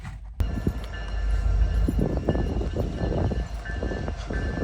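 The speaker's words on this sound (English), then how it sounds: "So right now we have our first train here." A Union Pacific freight train with locomotives 8974 and 6894 rolls past in Rochelle on a rainy morning, a close, steady rumble of wheels and cars with a faint sustained horn tone throughout.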